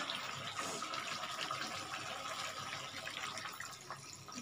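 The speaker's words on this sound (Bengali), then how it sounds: "জলটা আমি দিয়ে দিচ্ছি।" Water runs into a pan of chicken kosha in a home kitchen, a steady close splashing pour that holds for several seconds at low level with no talk over it.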